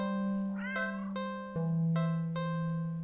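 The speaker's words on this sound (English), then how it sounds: "It's an interesting looking cat." A cat in a video game gives a clear meow, a rising then falling tonal call, over a steady electronic hum. Short clicking taps follow at a slow, even pace.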